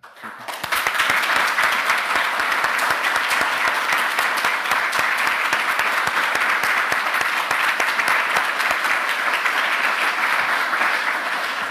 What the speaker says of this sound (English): if we could have a round of applause to wish her good luck